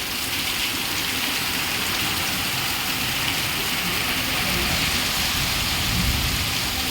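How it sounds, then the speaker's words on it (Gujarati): Heavy rain pours steadily with gusting wind and a thunderstorm in Vadgam taluka, Banaskantha, forming a dense, continuous outdoor roar that stays loud and even throughout, with no voices. "અમારે અત્યારે ફૂલ વરસાદ પડી રહ્યો, પવન સાથે ને વીજળી"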